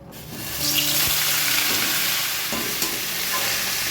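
Fenugreek leaves hit hot oil in a kadai, a loud, steady sizzle that swells after half a second and hisses on continuously with no voices.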